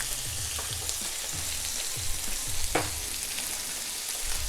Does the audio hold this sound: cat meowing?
no